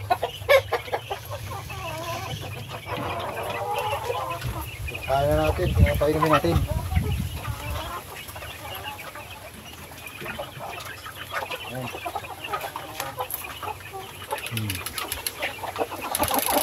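Black Australorp and Rhode Island Red laying hens cluck and murmur in a busy flock, with scattered squawks and farmyard noise as someone speaks over them.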